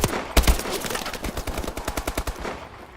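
Automatic gunfire from a deathmatch in Call of Duty Advanced Warfare, a sharp opening burst followed by a steady rapid string of close shots that gradually fade out.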